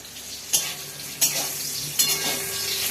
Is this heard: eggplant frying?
yes